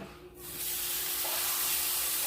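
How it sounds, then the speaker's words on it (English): Garlic-coated skirt steak sizzles in a frying pan, a steady bright hiss that swells after a brief soft start and holds loud and close. "You want to hear a little bit of sizzling, so you know that you're going to go ahead and fry these up."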